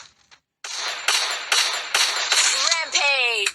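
Gunfire in the Free Fire mobile game comes as several loud, close shots in quick succession, ending in a ringing metallic tail, with a voice talking over it.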